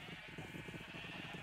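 Sheep in the Minecraft video game bleat in a steady stream of buzzy, pulsing calls that overlap and run continuously, moderately loud and with no talking.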